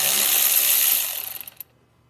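A caliper bracket bolt on a Ford Ranger loosened with a ratchet, a loud close burst of rapid clicking that slows into a few separate ticks before stopping.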